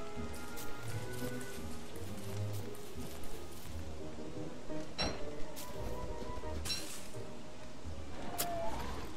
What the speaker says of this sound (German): Scheiß Regen, du